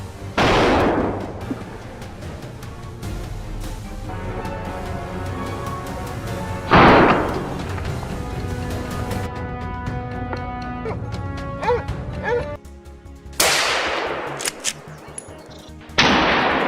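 Rifle shots fired at wild boars in rough brushy terrain: a few loud, sharp reports with long booming tails spaced several seconds apart, over a continuous background of music.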